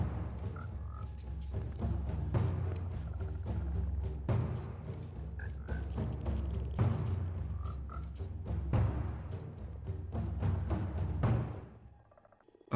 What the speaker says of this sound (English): let's get the frogs in now